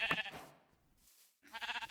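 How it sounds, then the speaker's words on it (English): Sheep in the Minecraft video game bleat in short, quiet calls, one at the start and another near the end, separated by a near-silent gap. "I kill these sheep over here."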